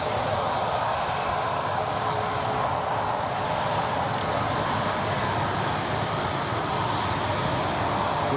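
A British Airways airliner on the runway at Newcastle International Airport, producing a steady, broad engine roar that stays constant and fairly loud, heard from a distance with no clear talking.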